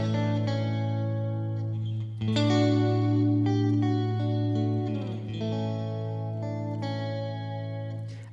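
Stratocaster electric guitar played through UVI Sparkverb reverb at its default setting, sustained chords ringing with a lush, washy reverb tail that blurs each strum into the next, loud and close throughout.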